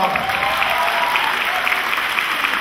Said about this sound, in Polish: Wielkie brawa dla nich, drodzy Państwo.